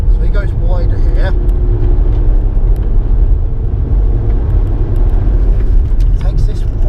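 A Stage 1 BMW M140i lapping Bedford Autodrome, its engine a loud, constant low roar heard from inside the car, with faint clicks and rattles over it; no talk is heard.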